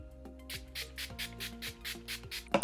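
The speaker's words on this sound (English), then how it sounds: "I'm going to use the Wet n Wild Photo Focus Natural Finish Setting Spray." Wet n Wild Photo Focus Natural Finish Setting Spray misted onto a face during makeup, heard as about eight short, evenly spaced hissing spritzes over soft background music.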